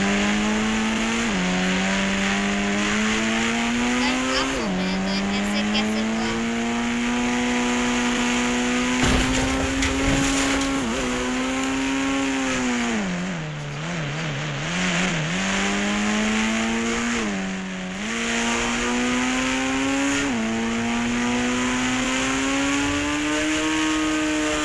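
A motorbike engine revs and accelerates steadily, pitch rising through gear changes with brief dips between shifts, loud and close throughout with no talking.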